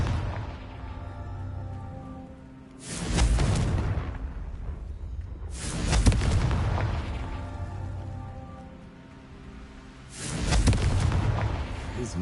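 Confringo blasting spells in Hogwarts Legacy erupt as three heavy booming explosions, each a loud broadband burst that decays over a couple of seconds, spaced roughly three to four seconds apart over a rumbling game soundscape.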